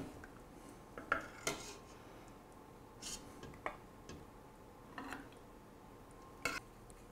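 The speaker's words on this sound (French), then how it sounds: "je vais pouvoir déposer mon tagine dans un vrai plat à tagine" Lamb tagine with olives is moved into a proper tagine dish. Faint, scattered clinks and taps of utensils against ceramic ring out irregularly over a quiet kitchen background.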